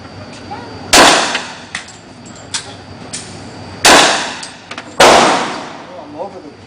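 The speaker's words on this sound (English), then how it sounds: "It shoots a 40 Smith & Wesson." Three sharp, loud shots from a Ruger handgun chambered in .40 Smith & Wesson at a shooting range, spaced irregularly with quick decays and faint range noise between them.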